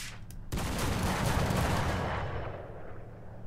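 A ZUT-37 anti-aircraft gun in War Thunder fires a sustained rapid burst of dense booming shots, loud and continuous for several seconds before trailing off.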